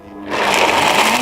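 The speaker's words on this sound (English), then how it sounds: "then we're going to blend it all up" A blender starts up on cashew cheese ingredients with salt and garlic, its motor rising quickly to a loud, steady whirring churn that continues to the end.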